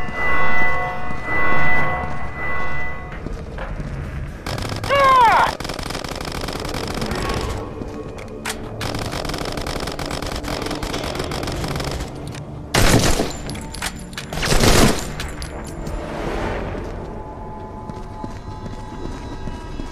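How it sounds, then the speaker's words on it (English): Gunfire in the mobile first-person shooter Modern Combat 3 comes as dense, loud bursts of rapid shots and explosive crackle. It is broken by brief lulls, with layered game effects throughout. "Open fire! We're spotted! Shoot to kill!"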